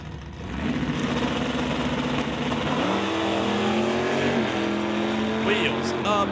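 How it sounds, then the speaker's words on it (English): NHRA Summit ET drag race cars launching side by side at the strip, loud engines droning and rising in pitch as they pull away, with an announcer talking over the roar. "Wheels up, launch for Banky."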